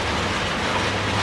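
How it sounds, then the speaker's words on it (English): Loud, steady rumbling and rushing from freight train hopper cars passing close by on a snowy day, with a grinding tone from dragging brakes running under the roar. "Those hopper cars have some strange noises coming out of them. Brakes dragging or something."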